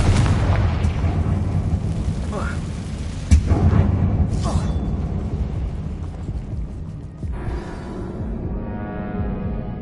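A Confringo fire spell explodes in Hogwarts Legacy: deep, rumbling booms and bursts over a heavy, sustained roar, with a sharper blast near the middle and the din easing slightly toward the end.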